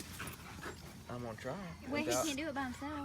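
Dogs whine and yip in rising and falling cries near a garage where people work on a 1956 Ford Fairlane, with people talking over and between the whimpers.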